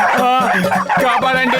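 Cartoon dogs bark and yip in a Motu Patlu episode, loud overlapping bursts in quick succession, mixed with voices speaking.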